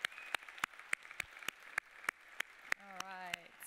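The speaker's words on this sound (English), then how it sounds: "maybe make a clap sound on your next one" A meditation group's closing hand claps, sharp and evenly spaced, about a dozen in a steady rhythm over soft background noise, with a brief tonal sound near the end.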